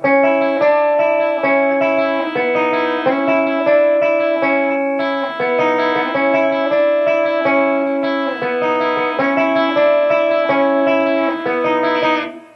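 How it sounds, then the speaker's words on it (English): A clean electric guitar with new Ernie Ball coated strings plays a melodic intro riff, clear sustained notes ringing in a steady rhythm, alone and fairly loud. "just to give you something in clean sound, I'll go ahead and play the intro"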